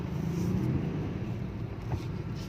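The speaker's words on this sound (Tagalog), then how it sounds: "Ayan, sobrang traffic." Heavy, congested road traffic heard from a sidewalk on foot makes a steady, dense engine rumble with no pauses.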